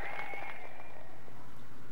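Applause rises in the Sakura Wars 3 video game as a street performance of song and dance begins, a short continuous patter of clapping from a crowd at moderate loudness.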